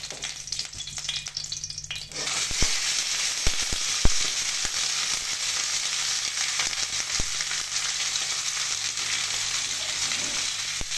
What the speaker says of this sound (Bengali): 3 চামচ তেল দিয়ে মাছের মুড়োটাকে আমি ভালো করে ভেজে নেব।